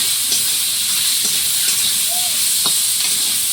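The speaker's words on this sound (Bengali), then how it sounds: "মশলাটা ভাজা হয়ে গেছে" Spices sizzle and fry steadily in a pan in a rural Sundarbans kitchen, a soft continuous hiss with a few light stirring scrapes and no talk.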